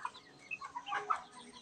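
Soft clucking and peeping from a small flock of about 15 chicks in a brooding pen, scattered short calls at low volume with no talking.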